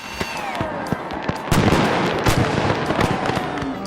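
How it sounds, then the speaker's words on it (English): Fireworks burst during a Steamboat Springs town celebration night, a dense crackling barrage of sharp pops and booms rolling continuously, loud and close, with whistling trails rising beneath the explosions. "Extra fireworks were exploded that night."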